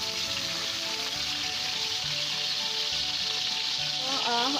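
Honey garlic chicken fries in a pan with a loud, steady, dense sizzle throughout, while a tonal hum sits underneath and a brief warbling tone rises near the end.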